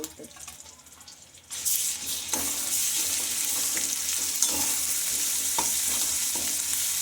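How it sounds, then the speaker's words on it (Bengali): Garlic fries in a small amount of oil with a bright, steady sizzle. After a quieter start with a few clinks, the sizzle jumps up and stays loud, with occasional stirring scrapes. "তেলটা দিয়ে একটু রসুনটা ভেজে নেব"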